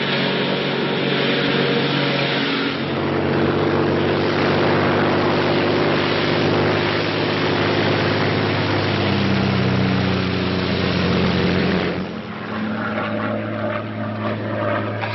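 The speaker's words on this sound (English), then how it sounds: "a Royal Air Force plane is waiting for us at a secret landing place" A Royal Air Force propeller plane drones steadily in flight, a loud continuous engine and airscrew roar heard as if from inside the cabin, with no talk over it.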